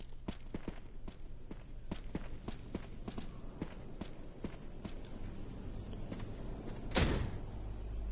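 A locked door rattles once, short and loud, in the video game Resident Evil Remake, after a steady run of footsteps across a hard floor.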